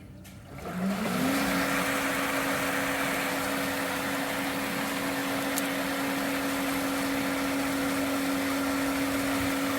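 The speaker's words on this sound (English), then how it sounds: "Filter pump turning on." Pool filter pump switching on and spinning up, its motor hum rising in pitch within a second, then settling into a steady loud whine with broadband water rush, running alone and close.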